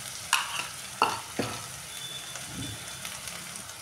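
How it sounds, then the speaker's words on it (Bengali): Onions fry with salt in a pan, a low steady sizzle broken by a few sharp clinks and scrapes of stirring, quiet and close, with no talking. "পেঁয়াজটা আমার ভাজা ভাজা হয়ে গেছে"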